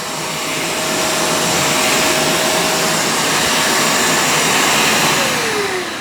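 A Shark StainStriker HairPro portable pet carpet cleaner, model PX251, runs on suction only with a loud, steady whining roar close by that stays constant throughout, with no voices.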